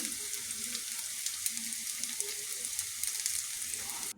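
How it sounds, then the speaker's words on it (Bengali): Pakoras fry in hot oil with a continuous bright sizzle, close and even, that carries on with no talking and cuts off abruptly at the end. "তো এই দেখুন পাকোড়া ভাজতেছি"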